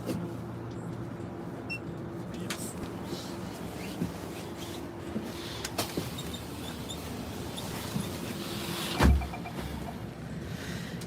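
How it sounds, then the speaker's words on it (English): The inside of a moving bus in Norway: a steady low engine and road rumble with faint rattles and clicks, plus one brief thump near the end, with no talk. "I'm sitting on a bus"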